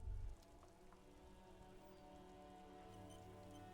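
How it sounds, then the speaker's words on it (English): Steady rain falls on the city of Revachol in the video game Disco Elysium, a faint, even patter over a low hum, with a brief thump at the very start. "All around you, rain falls on the great city of Revachol. Rain drips from the eaves and floods the gutters"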